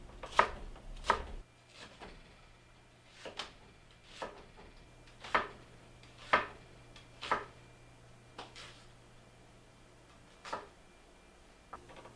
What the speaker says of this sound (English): grate up the mozzarella while Charlie chops up the onion and green pepper.